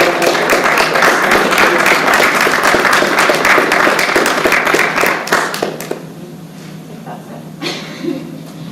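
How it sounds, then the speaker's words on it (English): A room full of people at a town budget public hearing breaks into loud, dense applause for about six seconds, then it thins to scattered claps and quiet room noise. "give them a hand, a round of applause as well"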